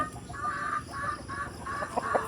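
Roosters cluck and call in a run of short bursts at feeding time on a rural farm, fairly close and loud over steady outdoor background noise.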